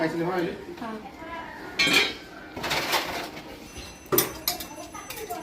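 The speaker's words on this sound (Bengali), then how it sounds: "এই যে কাটাকুটি চলছে এখন" A large Katla fish weighing over five kilograms is cut up outdoors, with intermittent metallic clanks and scraping knocks, two sharper hits standing out, while people talk throughout.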